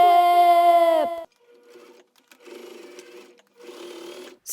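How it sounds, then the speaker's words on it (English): A sewing machine stitches quilt fabric, first a loud, close steady whir with a rising motor tone, then several shorter, softer bursts of stitching separated by brief pauses. "Cut the excess fabric off and take it to our sewing machine"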